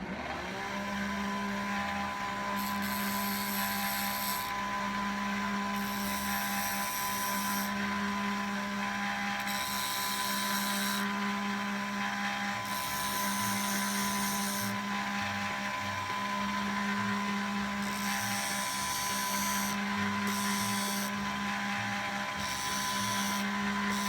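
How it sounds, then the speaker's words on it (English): Bench grinder sharpening the tip of a screwdriver, a loud steady motor whine throughout with repeated bursts of hissing grinding as the metal is pressed to the wheel, close up. "I'm gonna use my grinder here and just sharpen the end a little bit"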